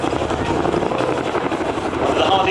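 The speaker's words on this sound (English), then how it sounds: "Operates the largest fleet of Chinook support helicopters after the United States Army." An RAF Chinook twin-rotor helicopter at the Biggin Hill airshow gives off a continuous, loud, throbbing rotor drone, with a commentator's voice heard over it.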